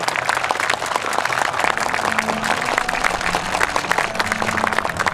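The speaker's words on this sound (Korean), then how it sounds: "여러분 큰 박수 부탁드립니다" Loud, steady crowd applause at a maritime ceremony where the president hands a compass to the ship's captain, dense clapping sustained throughout with a faint voice briefly underneath.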